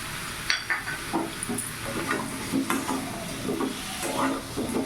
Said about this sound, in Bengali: এবার ভালো করে নাড়াচাড়া করে নেব